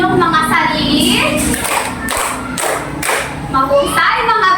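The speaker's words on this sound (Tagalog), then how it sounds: "bigyan niyo nga ng 4 na palakpak ang inyong mga sarili." Schoolchildren in a classroom clap together in a few loud, close rhythmic bursts, mixed with children's voices and thumps in the room.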